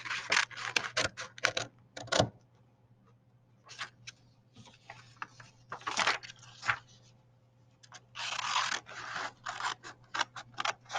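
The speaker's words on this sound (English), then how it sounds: "we're going to cut right on the dotted line just to that fold" Scissors snip paper along a dotted line toward a fold in a rapid series of close crisp cuts, coming in several bursts, with a faint steady hum underneath.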